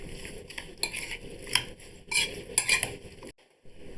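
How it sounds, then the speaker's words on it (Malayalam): Lime pickle being stirred with salt and sugar: close, bright scraping and clinking of a spoon against a bowl in short uneven strokes, then a brief silence near the end. "ഇനി നന്നായിട്ട് ഒന്ന് ഇളക്കി വെക്കണം"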